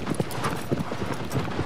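A horse's hooves clip-clop in the Shadow of the Colossus remake, a quick uneven trot of soft thuds at moderate distance, fairly quiet over a low ambient background.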